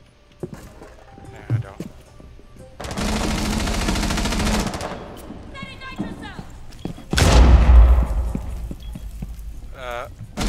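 Automatic gunfire in Rainbow Six Siege on the Skyscraper map as a player shoots out bars, two loud sustained bursts separated by quieter gaps with mechanical clicks, heard up close.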